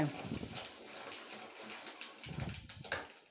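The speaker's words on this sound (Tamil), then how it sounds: "இப்போ நம்ம தண்ணி அளந்து வச்ச தண்ணியை ஊற்றிட்டு" Measured water is poured into a pot for cooking puttu flour, a continuous splashing gush that rises and falls over a few seconds with faint background noise.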